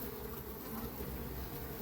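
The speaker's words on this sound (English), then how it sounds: "So I have 5 gallons of bees right now" A large honeybee colony buzzes steadily and densely throughout, a loud continuous swarm drone during removal from behind a house dormer, with bees collected into 5-gallon buckets.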